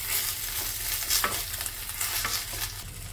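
Washed rice stirred and toasted in a hot pan on a high flame, a steady dry sizzle broken by scraping strokes of the spoon, close and alone with no talk.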